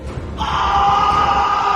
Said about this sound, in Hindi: अगले 2 मिनट तक सिर्फ मनोज की चीखें गूंजती रही उस वीराने में